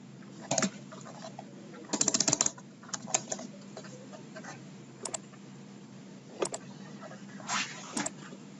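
Computer keyboard typing while entering a username into a login form during PHP code review, with a burst of rapid keystrokes and scattered single taps, close and clear with no talk.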